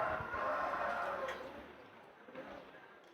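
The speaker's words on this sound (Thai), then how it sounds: "ไก่วัดไง" A rooster at a Thai temple crowing in a long drawn-out call, moderately near, over steady outdoor background noise, with nobody speaking.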